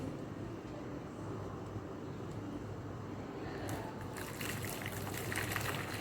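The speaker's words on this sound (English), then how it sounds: "I want you to fill this with hot water." A low, steady background hum gives way to a brighter splashing trickle as hot water is poured into a bowl, the stream continuing to the end.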